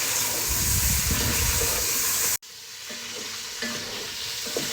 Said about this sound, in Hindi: तो आपने चिकन को जो है वो अच्छे से फ्राई करना है